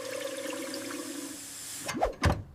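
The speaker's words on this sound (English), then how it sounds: "I flush the toilet." A toilet flushes close by: a low background hum gives way to a sudden loud rush and gurgle of water near the end.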